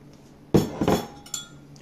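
Long grain rice stirred into boiling coconut milk in a pot for Jamaican rice and peas: a spoon knocks and clinks against the pot in a few brief, close strokes.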